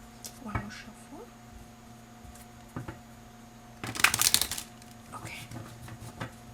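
A brief riffling burst of cards being shuffled, close up, amid quiet room tone and a few soft handling clicks.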